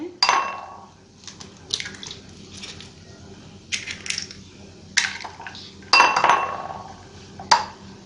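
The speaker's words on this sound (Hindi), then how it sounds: "3 अदद अंडे हैं। इसे हम इस ब्लेंडर में मैं इस जग में निकालूंगी।" Three eggs are cracked one at a time into a jug, sharp taps on the rim followed by clinks and soft splashes, spaced out with quiet gaps between.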